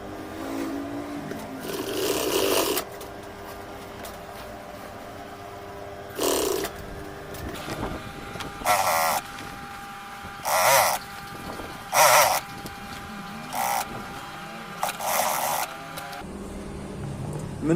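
Sewing machine stitching a zipper onto a cushion, running in several separate short bursts of one to two seconds each, with quiet pauses between them and faint handling noise.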